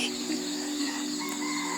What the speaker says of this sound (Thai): ได้ยินเสียงนกร้อง เสียงไก่ขัน